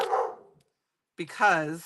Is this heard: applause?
no